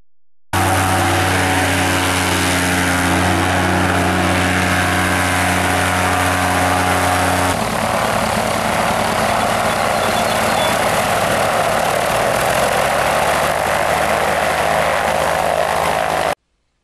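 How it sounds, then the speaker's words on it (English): Seaplane engines roar across a lake at a park launch ramp, a loud steady droning hum with strong low tones that shifts character midway as the aircraft powers up and moves off the water, no talking. "There is a ramp at the park from which planes enter the lake, take off from the water,"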